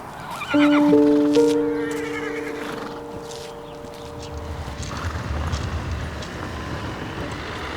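A horse gives a loud, close whinny near the start, then quieter shuffling and faint background noise follow, without clear talk.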